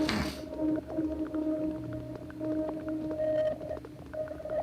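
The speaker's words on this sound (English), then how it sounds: "This is not a piano. This is something different. I don't know what it is. A synth." A synthesizer tone plays back from a tape loop, sustained wavering pitched notes with a drifting, slightly warbling character and soft clicks, steady at moderate level after a brief noisy start.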